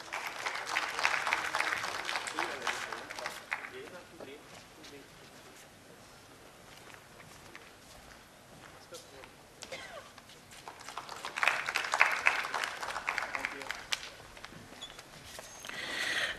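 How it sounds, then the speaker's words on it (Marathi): An audience at a stage event claps for a guest being welcomed with a gift, two bursts of applause separated by a quieter lull with faint talk and room noise, the second burst swelling stronger. "एकदा जोरदार टाळ्या त्यांच्यासाठी."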